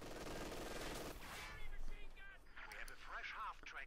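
Rapid MG-42 machine gun bursts in Company of Heroes 2 on a Siegfried Line map, a dense rattling stream up front that thins out, with someone commentating over the battle noise.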